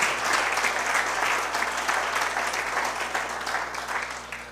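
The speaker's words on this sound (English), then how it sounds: "So if we get a big round of applause for these kids, that'd be great." A crowd at an evening gathering gives a big round of applause for a boy scout troop after a flag presentation, dense and sustained clapping that slowly tapers over several seconds.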